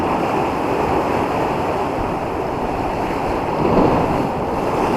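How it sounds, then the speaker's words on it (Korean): Ocean surf rolls in against a breakwater with a steady roar under gusty wind, one wave surging slightly louder toward the end. "오늘은 파도가 좀 있네요."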